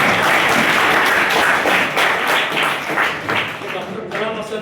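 Audience applause filling a college auditorium at the close of a scientist's lecture, a dense, steady wash of many hands clapping together that thins slightly toward the end.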